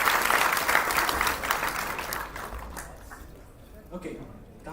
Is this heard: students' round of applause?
yes